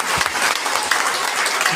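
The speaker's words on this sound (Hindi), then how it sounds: "एक जोरदार ताली होना चाहिए" Loud, dense applause from a crowd of women at a motivational product event in India, with continuous close clapping filling the whole stretch.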